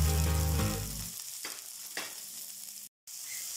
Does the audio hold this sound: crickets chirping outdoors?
no